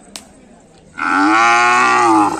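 A young calf at a bull gathering on an open village ground lets out one long, loud moo that holds steady for over a second, preceded by a brief faint click in a quiet setting.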